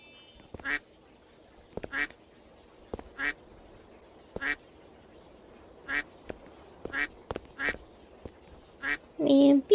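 A duck in a Roblox obby video game quacks about a dozen times: short, evenly spaced quacks over quiet game background, ending with a louder, longer quack.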